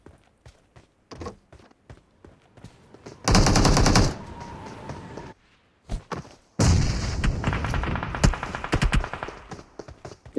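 Rapid automatic gunfire in a first-person shooter video game, with two long loud bursts separated by quieter scattered single shots, footsteps and short pauses.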